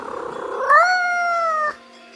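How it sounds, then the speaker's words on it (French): A single cat meows clearly up close, a rising then sustained cry lasting about a second. "elle entendit un bruit qui ressemblait à un miaulement"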